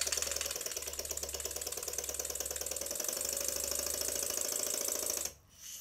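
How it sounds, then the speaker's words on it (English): A small Stuart model steam engine runs steadily, giving a fast, even mechanical clatter of valve and crank beats, close and fairly quiet, before cutting off near the end. "the engine runs very well and it's timed to perfection at both ends of the stroke"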